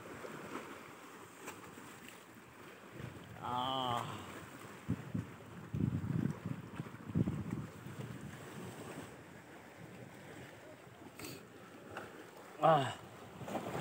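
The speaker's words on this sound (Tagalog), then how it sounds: "Buti ngayon malakas-lakas na yung hangin kaya malabas na yung tilapia" Strong wind gusts across a small fishing boat on open water during tilapia fishing, a low rumbling buffet against the microphone with a brief voice and a few knocks and splashes rising out of it.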